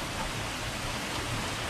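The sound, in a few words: rain falling during fishing trip in Texas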